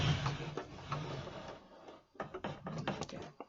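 Domestic sewing machine stitching a long curved seam on a fabric face mask, a steady close mechanical whirr broken by a brief pause, then resuming in short bursts as the seam is guided.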